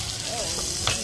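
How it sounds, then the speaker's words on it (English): Brief, steady sizzling hiss of food on a hot sizzling platter at a restaurant in Aruba, loud and close, with a faint clink near the end. "Of course, we have a sizzling platter."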